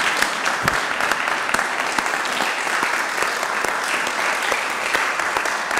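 A church congregation claps steadily for several seconds, dense sustained applause from many hands in a room.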